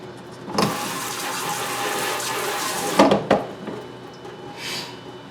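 Water from a tap runs into a sink during cleaning, a steady close splashing hiss with a couple of sharper knocks and splashes partway through, no talking.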